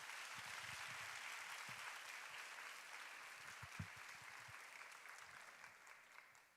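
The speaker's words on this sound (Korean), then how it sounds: "박수하겠습니다." Sustained applause from a congregation at a church university-group ceremony, steady and dense throughout with no talking, tapering slightly near the end.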